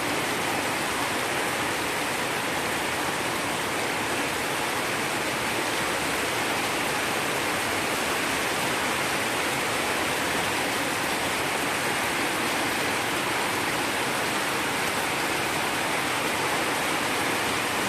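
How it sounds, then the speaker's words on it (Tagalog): Heavy rain pours down steadily on a farm, a loud unbroken hiss of water that fills the whole stretch with no pauses. "Lakas ng ulan"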